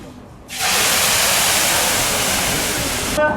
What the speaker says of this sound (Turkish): Bir bu şekilde yanıyorken su dökersek felaket oluyor.